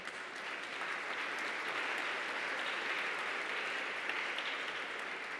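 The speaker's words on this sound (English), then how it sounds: "Please clap." Sustained audience applause at a hospital's annual gala dinner dance, a steady even wash of many hands clapping throughout with no voices on top.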